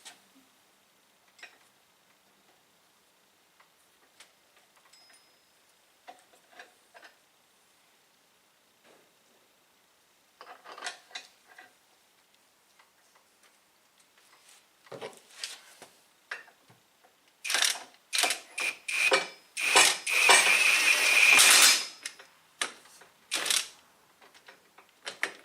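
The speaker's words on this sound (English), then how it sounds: "Now you simply start the bolt again." A bolt is threaded into and tightened on a motorcycle lift table cylinder, first sparse light clicks and taps, then bursts of rapid ratcheting clicks building louder and denser toward the end, close by.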